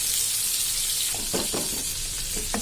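Masala with curry leaves frying in a pan for chicken dum biryani, made with ration rice, as a steady sizzle runs throughout and a few short scraping stirs come through near the end.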